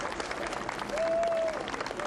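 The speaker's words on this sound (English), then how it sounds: "The crowd reacted warmly, applause where yesterday there had been criticism" Warm applause from a large crowd gathered outside Buckingham Palace as the Queen and Prince Philip arrive among floral tributes, a steady dense patter of clapping throughout, with a faint whistle-like tone briefly above it.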